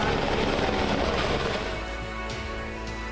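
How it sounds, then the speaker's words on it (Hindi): A helicopter passes low over Badrinath Dham during the temple opening ceremony, showering flowers on pilgrims; a loud, steady rotor and engine roar fills the whole stretch, easing slightly toward the end. "हेलीकॉप्टर से पुष्प वर्षा"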